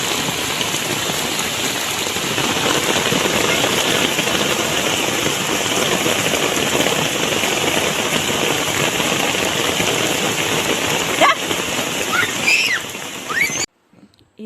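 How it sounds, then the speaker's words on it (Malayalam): Heavy, continuous rain pours outdoors during flooding in a house, a dense steady hiss for over thirteen seconds before cutting out abruptly near the end. "അടുപ്പിച്ച് നല്ല ശക്തിയിലാണ് നമ്മൾ മഴ പെയ്യണത്"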